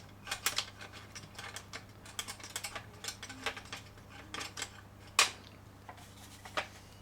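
A Bruder toy trailer ramp mechanism clicks and ratchets faintly and close by, a quick irregular run of small plastic gear clicks with one sharper snap near the end.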